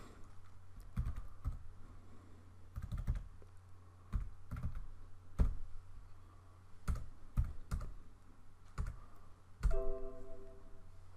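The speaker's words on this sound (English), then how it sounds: "I'm just going to type in the same info." Typing on a computer keyboard while entering form data: clusters of sharp key clicks in irregular bursts with short pauses, close and moderately quiet, with no talking.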